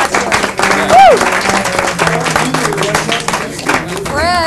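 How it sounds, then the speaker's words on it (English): A 1987 television studio audience bursts into lively clapping mixed with whoops and cheers, holding strong throughout at close range. "Let's have a big round of applause for Fred Evans."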